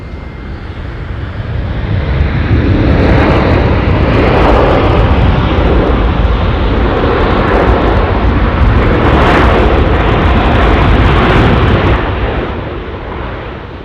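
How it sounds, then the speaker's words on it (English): An Air New Zealand Boeing 787-9 jet lands on runway 23 at Auckland Airport, arriving from Sydney: a loud, close, sustained engine roar builds over a few seconds, holds steadily, then eases slightly toward the end. "Next to land now, Boeing 787, New Zealand 106."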